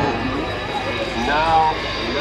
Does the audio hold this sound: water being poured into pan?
no